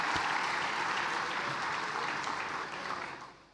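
An audience at a hospital centenary celebration in Mumbai applauds: a dense, even roar of clapping that holds steady and then tapers off at the end.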